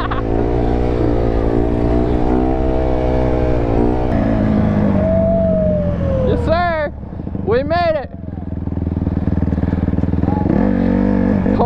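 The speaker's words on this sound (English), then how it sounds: "Just straight going rev limiter on that." A supermoto motorcycle engine is held bouncing against the rev limiter, a loud buzzing drone from close by, followed by sharp rising and falling revs in two quick bursts before settling back into a steady high-pitched roar.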